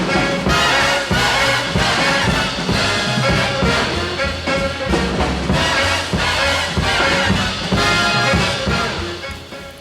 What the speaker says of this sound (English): The trumpets are most prominent in the final portion of the excerpt, which sounds like this.